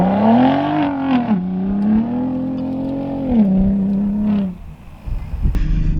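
A 2021 Ford F-150 Raptor Gen 3 pulls away at full throttle off-road, its loud, close engine drone rising and falling in pitch through gear changes before easing off into rough knocks and rumble.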